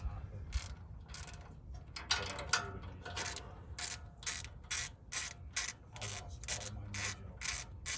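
A ratchet wrench backing out a brake caliper bolt on a Toyota 4Runner, with rapid, evenly spaced metallic clicks and grinding, rubbing mechanical noise that carries on steadily throughout, close and loud.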